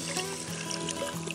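Water poured into a cast iron Dutch oven over a campfire for Salisbury steaks with beef bone broth, a steady close trickling pour for a brief moment with no talk.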